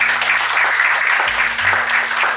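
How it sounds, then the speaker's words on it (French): Audience applause after a formal speech at a training ceremony, dense steady clapping filling the whole stretch at close, even loudness, with a low sustained tone running underneath. "Vous pouvez vous applaudir."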